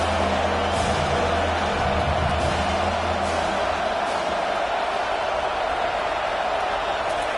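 A stadium crowd roars in an NCAA college football video game, a dense, steady wash of cheering noise that holds at full loudness for several seconds with no break.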